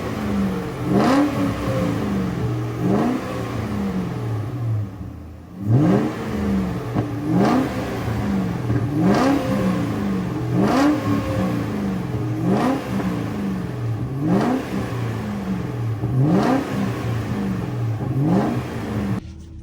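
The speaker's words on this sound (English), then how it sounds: "I think we rev bombed the neighborhood enough." A V8 BMW engine revs hard over and over, roughly every one to two seconds, each rising blip loud and close, falling back to a rough idle between pulls.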